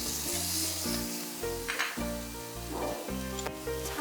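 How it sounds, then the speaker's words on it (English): Garlic, onions and chopped tomatoes sizzling steadily in a pan, a continuous close frying hiss with occasional stirring, background music playing underneath. "we're gonna saute some garlic."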